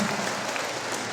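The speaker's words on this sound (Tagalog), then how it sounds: "Pwede po kayo pumalakpak," A crowd claps steadily in a brief, dense burst of audience applause, loud and continuous throughout.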